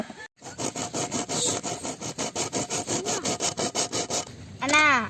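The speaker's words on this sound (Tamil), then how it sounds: "முதல்ல இந்த டின்னை வந்து நான் வந்து ரெண்டாக கட் பண்ணிக்க போகிறேன்" A tin can is sawn in two with quick, steady back-and-forth rasping strokes, about four per second, that continue nearly the whole time, then end in a brief squeal.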